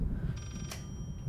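A rotary telephone rings in the horror video game Layers of Fear, a brief metallic bell trill over low background ambience.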